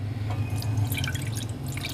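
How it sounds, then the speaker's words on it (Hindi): Water trickling and dripping into a saucepan while cooking, a steady splashy pour with a low bubbling undertone, close and continuous without speech. "सबसे पहले एक सॉस पैन में मैंने 1 कप पानी लिया"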